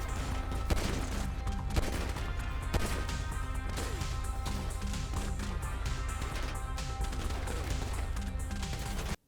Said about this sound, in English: Trevor gets put into a sort of last stand animation and it forces me to fire my gun